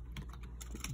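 Fast typing on a computer keyboard, entering a search for a pearl gold ribbed hose part, with a brief run of close, crisp key clicks and no talking.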